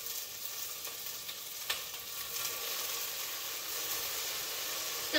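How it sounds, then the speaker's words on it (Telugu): Tomato, mint and green chillies frying in a pan as part of a chicken pulao, giving a steady close hiss and sizzle with a couple of faint stirring knocks. "టమాటో, పుదీనా, మిర్చి వేసుకొని ఫ్రై చేసుకోవాలి."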